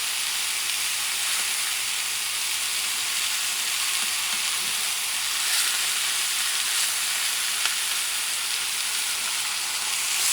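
Steak fries in a butter mix in a hot pan with a loud, steady, close-up sizzle and hiss that holds unbroken throughout, with no talk.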